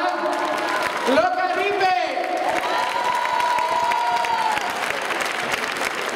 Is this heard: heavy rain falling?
no